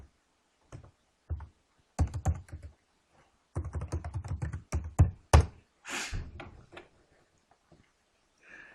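Bursts of rapid keystrokes on a computer keyboard as a username and password are entered, irregular clusters of clicks with short pauses between, close and fairly quiet.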